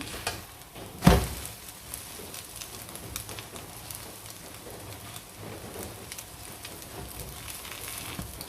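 A chicken egg frying in a pan gives a steady soft sizzle and crackle that runs throughout, with one brief louder knock or clatter near the start.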